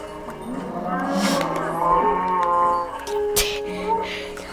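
Cattle in the video game Minecraft moo repeatedly in a pen, several overlapping low, drawn-out calls that sound close and fairly loud, with no speech over them.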